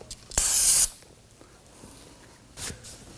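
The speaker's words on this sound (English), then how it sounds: "if you want to use some spray solvent to go ahead and clean up the residual oil here," Solvent spray from an aerosol can cleans leftover engine oil on a 2018-2024 Toyota Camry 2.5L four-cylinder. A loud, close hiss lasts about half a second, followed by faint handling noises and a second, shorter spray.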